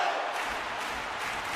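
Hockey arena crowd in a video game, a dense continuous roar of cheering and noise filling the whole moment, loud and steady.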